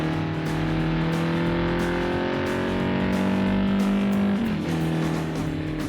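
Engine roar from a motorcycle racing arcade video game in a game arcade: a loud, continuous whine that holds steady, then dips and bends in pitch near the end, with no talking.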